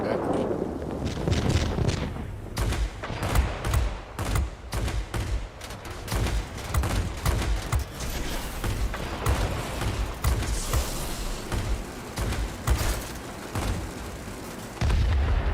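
Aircraft machine guns rattle in rapid, sustained bursts during a World of Warplanes dogfight, dense and loud from start to finish with engine roar underneath.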